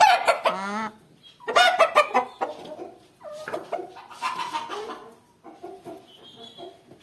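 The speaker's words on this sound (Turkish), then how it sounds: "Dört tane tavuk. Şu anda üç tane de horozumuz var." Fayoumi chickens, hens and roosters, cluck and squawk close by in bursts, with a rooster's drawn-out call at the start and softer clucks trailing off between louder calls.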